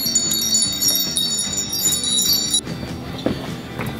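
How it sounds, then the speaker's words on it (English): Wind chimes ring in a general store in Northern Ontario, giving bright, shimmering metallic tones that overlap for about two and a half seconds, then stop abruptly, leaving low store background noise. "wind chimes"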